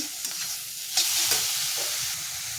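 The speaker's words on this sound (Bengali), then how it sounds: "ঘি দিয়েছি গরমে, ভাজবো, ঘিটা ভাজছি।" Ghee sizzles steadily in a hot pan while making carrot halwa, a continuous close frying hiss with a few sharper bursts as it is stirred.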